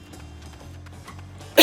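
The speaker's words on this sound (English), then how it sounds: "I'm sorry, I'm still getting over the cough." A single sharp cough bursts out loudly at the very end, after a quiet stretch of low background hum.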